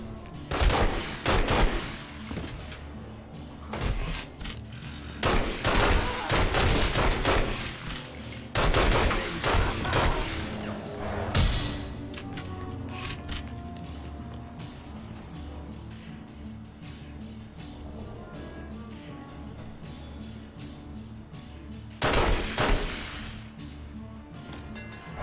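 Gunfire from The Godfather video game on Xbox 360: loud bursts of rapid shots in clusters, then a long quieter stretch and a final burst near the end, with occasional clinks and crashes.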